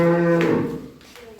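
A dairy cow of an improved breed on a farm gives a single loud, close moo that swells and then trails off, with no voices present.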